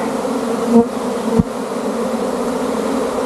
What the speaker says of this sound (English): That is one heck of a good sized swarm.